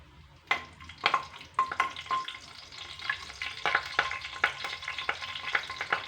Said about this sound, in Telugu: పోపు దినుసులు కూడా వేసి ఒక్క నిమిషం ఫ్రై చేయాలి.